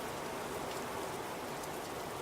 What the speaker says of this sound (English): get some shelter from the rain